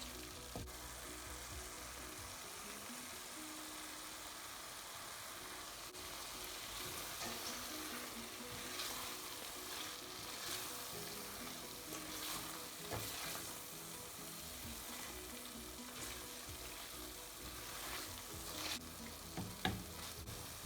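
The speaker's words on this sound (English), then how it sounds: "Now I'm adding shrimps in it. I'm just gonna mix it." Shrimps fry with garlic in a pan, giving a low, steady sizzle with faint scraping of mixing that grows a little busier toward the end, quiet and close.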